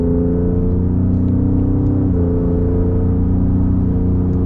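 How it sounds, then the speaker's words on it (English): A modified second-generation Ford Raptor in sport mode accelerates with a steady, deep exhaust drone that climbs through a quick gear shift, loud and continuous, with no voices. "That sounds good at the exhaust."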